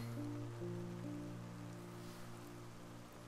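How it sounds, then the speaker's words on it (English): Rain falls steadily as ambience in a video game cutscene, a soft constant wash under faint sustained musical tones, with no talking. "It's still raining."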